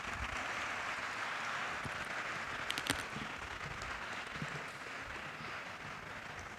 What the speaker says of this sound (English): So may we have a bigger round of applause for side proposition,